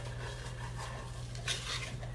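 Peppers being sautéed and stirred in a pan, a soft steady hiss with faint scraping and a few clinks of a utensil against the pan, close and quiet.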